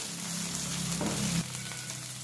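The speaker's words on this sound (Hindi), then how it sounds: "अब डालेंगे नारियल और इसे भी अच्छे से भूनना है। मीडियम या हाई फ्लेम पर" Ground coconut roasting over medium-high flame in a Malvani crab masala curry, a continuous close sizzle with a brief stir or scrape, no talking.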